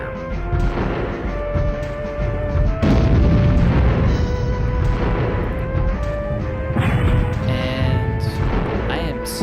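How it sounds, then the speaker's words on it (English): Heavy artillery shells pound down in a video game battle, dense rumbling booms and crashing impacts rolling continuously over game music, with a fresh burst of blasts around the third second and more late in the stretch. "I am slowly being bombarded with heavy-duty artillery shells."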